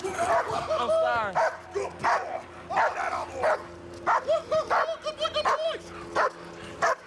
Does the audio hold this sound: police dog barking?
yes